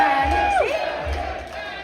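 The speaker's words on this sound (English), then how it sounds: "normally you don't have this huge, massive crowd being like, Danny, Danny, Danny" A crowd at a Gran Turismo Manufacturer Cup race event in Los Angeles chants a name in a loud, roaring swell, with a sliding whoop-like tone over a dense crowd noise.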